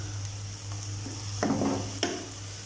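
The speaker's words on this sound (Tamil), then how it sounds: "5 மினிட்ஸ் நல்லா மீடியம் ஃப்ளேம்லயே வச்சு வெங்காயத்தை நல்லா வதக்கிக்கலாம்" Onions sautéing over a medium flame for egg thokku, a soft steady sizzle with a constant low hum and a couple of brief louder stirring scrapes near the end, no voices.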